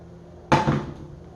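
A frying pan is set down on a stovetop before pancakes are made: one sharp metallic clunk with a brief ringing decay, close and alone.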